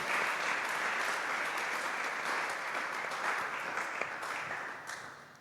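A church congregation applauds in praise of the Lord during a panel on calling and spiritual gifts, a sustained full crowd clapping that holds steady for several seconds, then begins to fade at the end.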